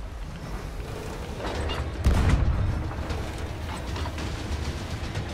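A single heavy boom from ship cannon fire in Sea of Thieves lands partway through, over a steady mechanical rumble and scattered clanks.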